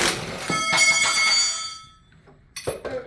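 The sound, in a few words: wrench falling off a workbench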